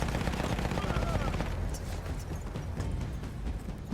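Rapid gunfire from a newly picked-up weapon in the Battlefield 1 campaign, loud dense bursts in the first half that thin out into scattered clatter and background battle noise.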